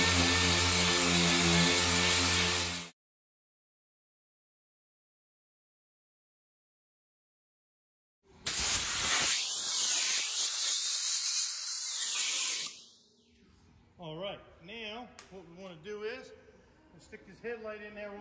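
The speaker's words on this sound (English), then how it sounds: "I'm gonna scratch it all up with the 320 and it's gonna feather in good" A car body panel on a Honda Pilot is sanded with 320 grit paper, producing loud, harsh whirring bursts in two runs separated by silence, followed by someone talking.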